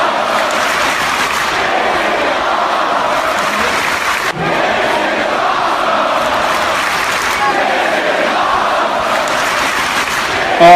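A crowd at a wrestling show roars and cheers continuously, a dense loud wash of voices that holds steady throughout with brief dips, close and enveloping.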